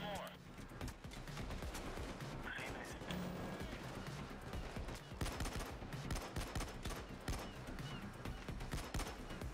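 Rapid gunfire from the heist shooter Payday 2 rattles on almost continuously, dense and loud, with bursts and impacts layered over one another under a man's speech.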